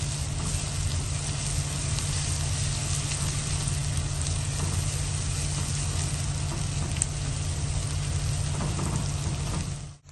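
Onion with ginger garlic paste frying in a pan, a steady close sizzle with faint stirring crackles holding evenly throughout, no talking, cutting off at the end.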